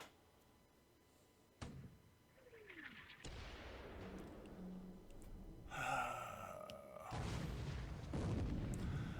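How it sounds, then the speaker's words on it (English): In a World War II Pacific naval war game, a ship is hit by torpedoes: several sudden booms and explosion effects come in separate bursts, with rumbling and a rising whistle between them. "the one ship that isn't touched gets hit by torpedoes"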